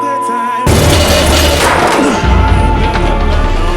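A bomb explosion erupts suddenly and loudly after a brief quiet tonal moment, followed by sustained crashing, rumbling debris noise that lingers for several seconds.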